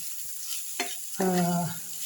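Oil sizzles softly in a pan while bitter gourd is stirred, with a brief scraping stroke and a clatter of a utensil.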